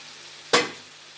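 Soaked ground mustard paste dropped into a pan of simmering spinach curry gives one sudden sharp sizzle that flares up close and quickly fades into a low steady hiss.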